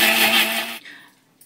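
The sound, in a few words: shredder blending tomato chutney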